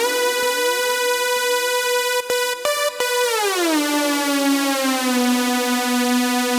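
A bright, buzzy Serum synth lead played in FL Studio, sustaining held notes with a few quick stabs before the pitch glides smoothly downward to a lower note, loud and alone.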